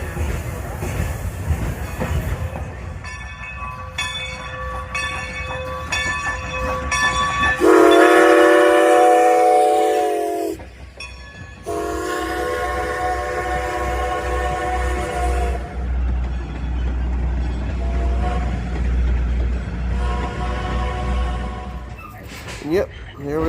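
A Strasburg Railroad passenger train rumbles along with rhythmic clatter, sounding its horn in several long, loud blasts, with faint voices in the background.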